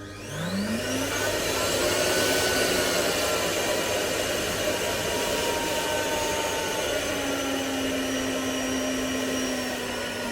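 A shop vacuum cleaner connected to a Shapeoko 3 CNC router runs through a speed controller, spooling up with a rising whine and then settling into a loud, steady drone that lasts throughout.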